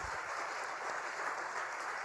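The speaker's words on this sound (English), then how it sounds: "I want you guys to give a big, huge, warm round of applause for Pastor Mark and Jeannie Grochocki" Church congregation applause: a short, even wash of clapping, fairly soft and steady throughout, with no break.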